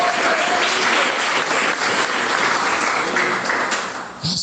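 Church congregation clapping during a sermon, a dense, steady wash of applause filling the room throughout before trailing off at the end, with no talk over it.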